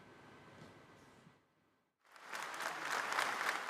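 Applause rises at a political party congress in Sousse, Tunisia: a quieter crowd murmur gives way to a brief lull, then a loud, dense burst of clapping swells and holds.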